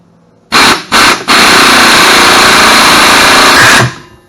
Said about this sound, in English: Just leave it in your forward on your impact gun or whatever you have.